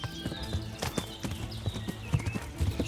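Horse hooves clip-clopping at a steady riding pace in the medieval game Kingdom Come: Deliverance, close and fairly loud, with repeated sharp hoof knocks over low ambient rumble and a faint voice underneath.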